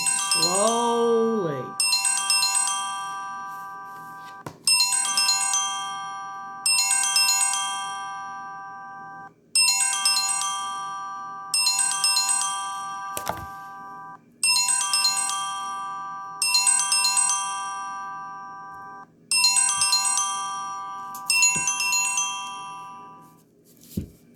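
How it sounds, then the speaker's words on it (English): A mobile phone ringtone repeats a bright, chiming electronic melody about ten times in regular bursts with short gaps, loud and close, preceded by a brief voice. "Sorry, my phone was ringing."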